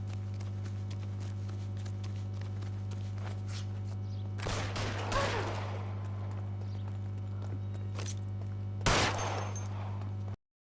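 Gunfire in the video game L.A. Noire: two sharp, loud bursts of shots a few seconds apart, over a steady low background hum and scattered faint footstep-like clatter.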